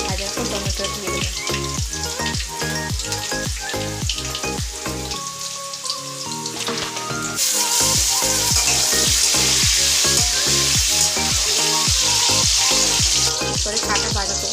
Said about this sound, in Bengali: লাল লাল করে ভাজার পর টমেটো দিয়ে দেবো